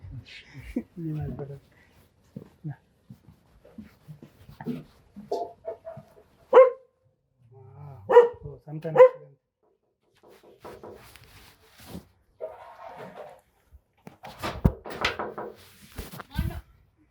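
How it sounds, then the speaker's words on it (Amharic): A dog barks a few times and whimpers at moderate distance, mixed in with people talking and some footsteps or door sounds. "ውሻ ኃይለኛ ውሻ አለ ብለዋል።"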